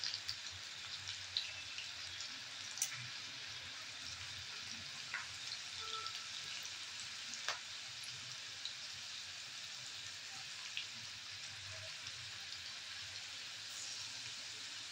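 Okra frying in a pan over a medium gas flame gives a steady, soft sizzle that stays even throughout, with a few faint clicks and light pops and no talking.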